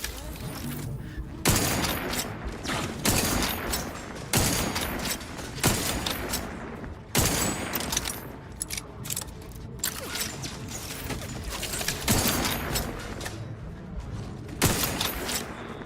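Repeated bursts of turret gunfire ring out in the video game Outer Worlds 2, loud and close, with short volleys roughly every second or two over a steady background of game noise and clanking mechanisms.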